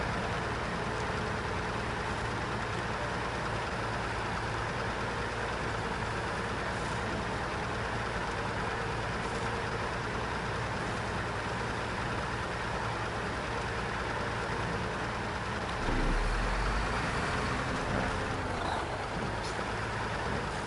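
A truck engine in the off-road driving game SnowRunner, played on hard mode, drones steadily at a low idle-like rumble for the whole stretch, with a brief louder low thump near the end.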